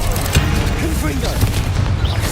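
A Confringo fire-blast spell goes off in the video game Hogwarts Legacy, a quick booming burst layered into dense, busy combat noise.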